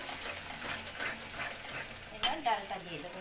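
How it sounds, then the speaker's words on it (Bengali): Spice masala fries in a pan while being stirred, a low continuous sizzle broken near the end by a couple of sharper scraping clinks of the utensil against the pan. "মশলাটা ভালো করে কষিয়ে নিচ্ছে"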